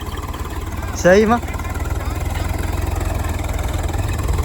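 A Swaraj tractor engine running steadily throughout, a continuous low rumble with a brief burst of close speech over it partway through.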